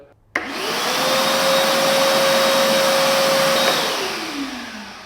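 A RIDGID corded vacuum switches on abruptly, whines up to a loud steady roar with a constant motor tone, then winds down near the end; close and alone, no talk.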